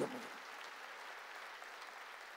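A church congregation applauds during a Korean sermon, making steady, dense clapping that fills the whole stretch at an even level, heard from within the room.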